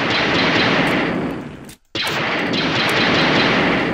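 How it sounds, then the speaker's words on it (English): A blaster firing in a Minecraft 1.4.7 Light Sabers mod makes a loud, sustained burst of rapid shots that breaks off briefly in the middle and then resumes. "let me go ahead and just spawn in a blaster here and a rifle magazine"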